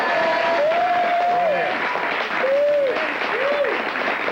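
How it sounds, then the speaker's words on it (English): Audience applause breaking out after a call during an interview, a steady dense wash of clapping throughout while a voice hums or sings over it with drawn-out, wavering tones. "we should all give a rousing round of applause"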